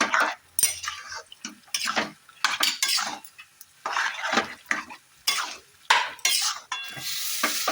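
Ghugni peas with spices stirred and sautéed in a pan, a spoon scraping and clinking against the metal in quick, irregular strokes over a light sizzle, close and fairly loud with no talking.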